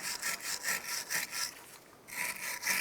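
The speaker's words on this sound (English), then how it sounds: "we're just going to use our wire brush here, and we're going to repeat for both sides." A wire brush scrubs the brake pad slider area on a 2001-2005 Honda Civic, giving quick rhythmic back-and-forth rasping strokes, close and fairly quiet, with a short break before resuming.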